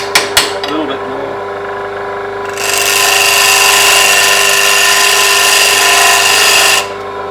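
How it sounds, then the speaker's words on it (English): Plane blade being ground on a bench grinder, a loud, steady high-pitched grinding hiss lasting about four seconds after a few brief knocks and a quiet motor hum. "you basically grind up towards the edge"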